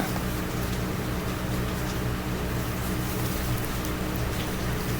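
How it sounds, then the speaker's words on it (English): Steady rain falls throughout, a dense, even hiss of drops hitting surfaces with a low rumble underneath, no voices. "It is raining here."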